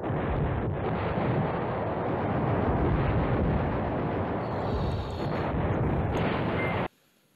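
Continuous heavy bombing explosions in the wargame Command Ops 2 at Manhay Crossroads, a dense, loud, roaring rumble that runs unbroken for about seven seconds and then cuts off abruptly.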